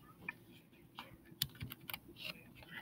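Light plastic clicks from a computer mouse at a desk, a quick scattered series of soft taps, close and quiet with faint background hiss.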